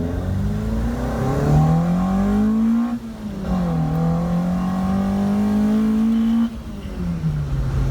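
A Datsun 1000 coupe with an A15 engine and twin Weber carburettors revs steadily and close by, its engine note rising and falling through two long sweeps with a brief dip between, no voices over it.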